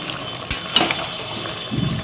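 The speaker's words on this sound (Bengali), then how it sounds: "জল দিয়ে দিচ্ছি," Water is poured into a pan of chicken curry, making two sharp splashy bursts followed by a low bubbling gurgle toward the end.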